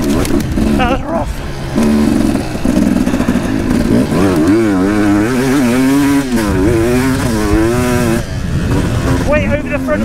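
An enduro dirt bike races a hare and hound event, its engine revving hard and continuously with repeated rising and falling pitch swings, loud and close, while people talk over it.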